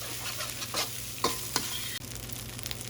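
Rice stir-fried over a very hot flame sizzles steadily, with a few sharp scrapes and clinks of a utensil against the pan, no voices.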